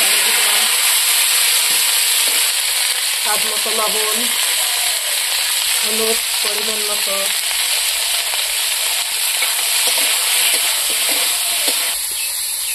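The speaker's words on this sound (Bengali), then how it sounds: "এখন আমি বেগুন ভাজি নিব বন্ধুরা," Eggplant slices fry in hot oil in a kadai, giving a steady, loud sizzle throughout, with brief stretches of a voice talking over it.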